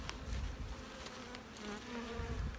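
Bees buzz steadily around hives in an apiary yard, a close, continuous droning hum with individual insects passing nearby.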